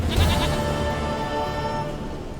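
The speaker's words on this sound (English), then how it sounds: "Goat of mine, dearest, sweetest goat." Goat bleating in The Witcher 3, a single wavering, harmonic-rich bleat near and loud at the start, then trailing into a sustained tonal fade, with no talking.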